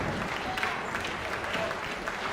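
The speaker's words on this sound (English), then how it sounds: "Give her a big round of applause." Crowd applause at a New Zealand sheep shearing championship, a steady dense wash of clapping from a large audience for a shearer in the final, with no clear talk over it.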